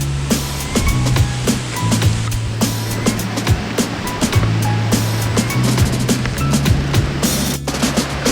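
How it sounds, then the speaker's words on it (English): Water from a waterfall on a hiking trail in Nuuanu, Hawaii crashes and splashes in a steady, loud rush, with a low droning undertone and no voices. "I hear the big splash of the water."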